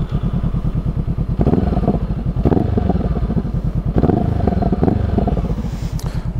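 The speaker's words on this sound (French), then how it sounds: "je vais vous faire écouter le bruit à l'arrêt là" A Honda CB500F motorcycle idles at a standstill, its engine loud and close with a fast, even pulsing beat and a few blips of throttle that swell and fall back.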